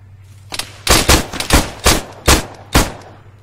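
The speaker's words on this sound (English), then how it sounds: "I can hear shooting." Gunfire in Arma 3: a string of about seven or eight loud, sharp gunshots in an irregular rhythm, fairly close, each with a short ringing tail, over a low steady hum.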